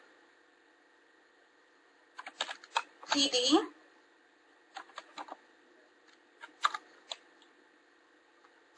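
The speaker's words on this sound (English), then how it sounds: "You can change this value by typing TA space the new value." Commands are typed on a computer keyboard as scattered clusters of crisp key clicks, with a brief stretch of speech in between, against a low steady hum.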